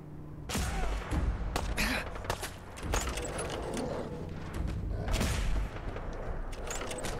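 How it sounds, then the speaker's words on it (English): Gunfire in Fallout 4 VR: bursts of shots and booming impacts go off repeatedly, loud and close, over a busy background of game noise. "Who the fuck is shooting here?"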